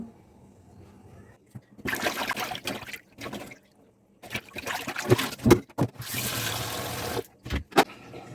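Hilsa fish pieces being washed with water in bursts of splashing and running water, with pauses and clanks between rinses.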